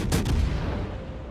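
Warship guns fire in a naval battle video game, a single heavy boom with a rumbling tail that fades over about a second, loud and close with no talk over it.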